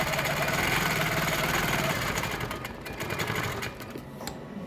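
A sewing machine stitches small quilted arcs on a quilt block, a fast, steady mechanical whir close by that slows and softens toward the end.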